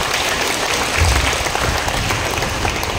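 Loud, continuous applause from a church congregation in Nasugbu, Batangas, a full, steady wash of clapping that holds its level throughout.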